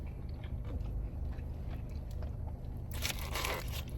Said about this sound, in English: Me eating pickles is insane.